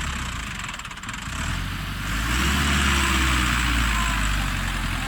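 A vehicle engine idling steadily with a low rumble, rising slightly in level partway through, with no talk.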